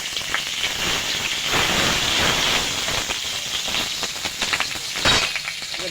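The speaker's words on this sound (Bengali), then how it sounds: "তেলটা গরম হয়ে গেছে, আমি দুটো তেজপাতা ফোড়ন দিয়ে দেব, কটা জিরে দিয়ে দেব" Two bay leaves and a few cumin seeds sizzling in hot oil in a pan, a steady loud hiss and crackle throughout, with a brief flare near the end.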